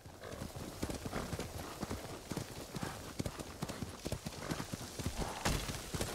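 Horse galloping in the video game Ghost of Tsushima, a steady fast clip-clop of hooves running continuously throughout at moderate volume, with a brief whinny-like burst near the end and no talking.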